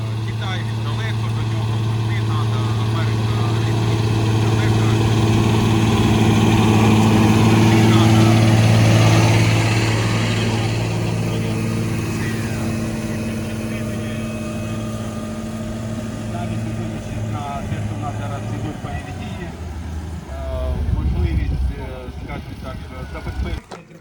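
A small Claas tractor of about 115 horsepower runs its engine with a steady low drone at a field day, loudest at first and easing off later, with people talking over it throughout.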